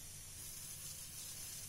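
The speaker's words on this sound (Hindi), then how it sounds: "अब इसमें तड़का डालें." Cumin and coriander tempering in hot oil for a fenugreek and spinach saag: a steady, faint, close sizzling hiss that continues unbroken throughout, with no voices.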